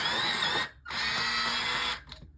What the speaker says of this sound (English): I've got an electric sharpener. It's very noisy.